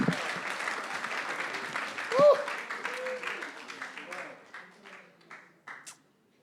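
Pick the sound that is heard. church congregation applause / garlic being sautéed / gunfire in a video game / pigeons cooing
church congregation applause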